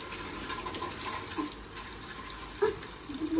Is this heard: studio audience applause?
no